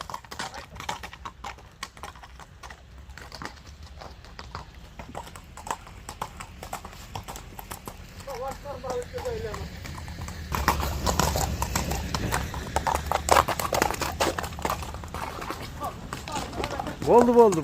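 A horse being shown for sale clip-clops with a steady run of hoofbeats that grows louder and nearer toward the end, while people talk over it.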